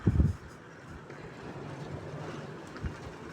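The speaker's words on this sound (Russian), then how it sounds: "там такой ветер" Strong wind in Ulan-Ude buffets the microphone with a steady low rushing roar after a brief heavy thump at the start; no one speaks.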